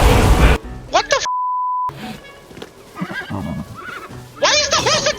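A horse in Zelda: Tears of the Kingdom lets out loud, shrill whinnies at the start and end, with an electronic beep and softer horse snorts and groans in between, while the animal attacks the player.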